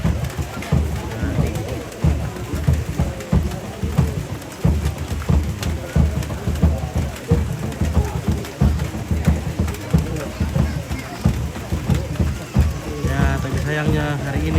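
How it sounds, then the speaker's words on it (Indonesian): Heavy afternoon rain falls steadily at a Mangrara Tongkonan ceremony in Lembang Sarapeang, Rembon, a dense constant patter with low rumbles, and people talk over it. "Sayangnya hari ini sore ini hujan terus."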